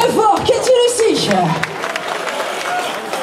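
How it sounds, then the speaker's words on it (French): An audience bursts into applause and cheering over a speaking voice, the clapping continuing as a steady wash after the talk fades. "Katie Lucie, on l'applaudit très fort"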